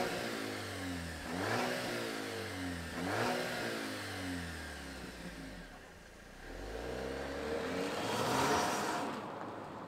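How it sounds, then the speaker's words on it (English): A 2023 Dodge Hornet GT sport SUV engine starts and revs, with several rising and falling sweeps of engine pitch heard at moderate distance, fairly faint, with no talking. "let's fire this up and hear what it sounds like"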